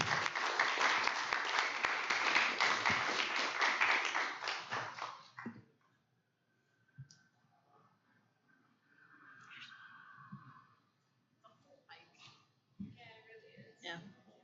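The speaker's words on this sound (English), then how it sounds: "Another round of applause for Allie" An audience at an Astronomy on Tap evening in Baton Rouge applauds the speaker Allie with a loud, steady round of clapping that lasts about five seconds, then fades into quiet room sounds and brief, soft talk.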